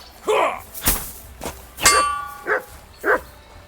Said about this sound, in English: He's got a dog!